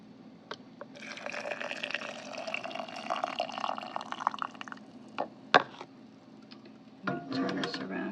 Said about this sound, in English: I'm going to fill this with water till I get to 1 inch headspace